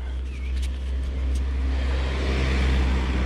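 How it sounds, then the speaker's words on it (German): Harley-Davidson EVO motorcycle out on a test ride on dry roads, its engine giving a steady, loud low rumble that builds slightly toward the end, with wind and road noise and no talking. "Da können wir die Harley Probe fahren."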